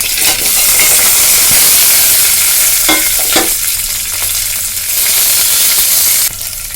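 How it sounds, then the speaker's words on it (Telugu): Urad dal, peanuts, chana dal, green chillies, onion and curry leaves sizzle in hot oil for a tempering for poha upma, a steady loud frying hiss with stirring scrapes, close and continuous, no talk. "మినపప్పు, పల్లీలు, శనగపప్పు, పచ్చిమిర్చి, ఆనియన్, కరివేపాకు వేసుకుందాం."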